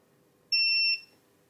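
A multimeter in continuity mode sounds one short, clear electronic beep, about half a second long, at a steady pitch against a quiet room, with no one talking.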